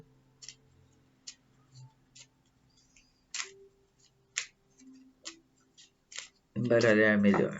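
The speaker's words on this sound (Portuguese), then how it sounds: "Eu vou embaralhar melhor" Tarot cards being shuffled and tapped into a deck, a string of sharp dry ticks and riffles spaced through a quiet room, ending in a burst of louder handling.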